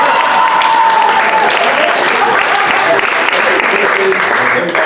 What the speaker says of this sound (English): Let's all clap. Wait for applause.